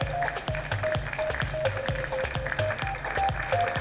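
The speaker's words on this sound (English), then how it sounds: "Let's give him a big round of applause" Audience applause at a live awards show telecast, steady clapping across the whole stretch with regular rhythmic beats of music running underneath.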